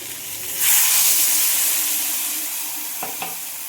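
Water poured into a hot cooking pan bursts into a loud hissing rush of steam that slowly fades into a softer simmering sizzle, with a couple of faint utensil taps near the end.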